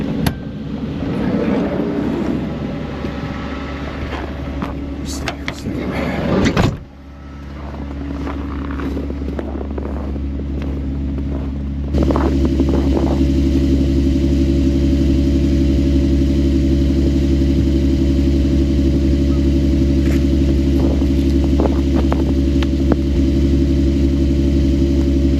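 A front wheel drive ProMaster van pushes through deep unplowed snow, its engine a steady low drone that dips briefly and then settles into a louder, constant rumble with faint crunches. No talking.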